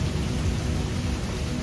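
Steady rain falling outdoors on a trail during a lunch stop, a dense continuous patter with low rumbling texture, even and unbroken throughout with no voices.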